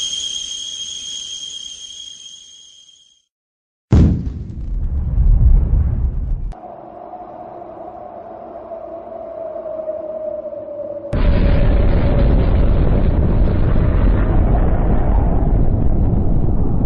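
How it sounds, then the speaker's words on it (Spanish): A bomb explosion: a sudden loud blast, then a long roaring rumble that swells into a dense, sustained wall of noise. "Ninurta se situó encima del monte Mashu y lanzó la primera bomba."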